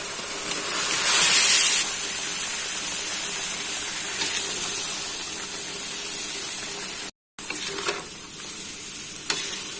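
Boiled bamboo shoots go into a simmering vegetable stew, giving a steady hiss and bubbling with a louder burst of splashing and sizzle near the start, then continued stirring and simmering sounds without speech.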